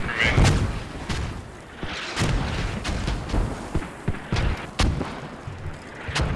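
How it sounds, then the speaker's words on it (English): Distant mortar launches and impacts in the Squad video game, a series of dull thumps and booms scattered among low rumbling battlefield noise, with faint voices in the background. "Mortars being launched."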